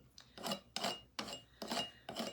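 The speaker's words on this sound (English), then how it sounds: "you could get out some kind of a paint scraper and kind of just chip at it a little bit" A paint scraper chips and rasps at painted wood on a small birdhouse in five quick, close scraping strokes with short gaps between them.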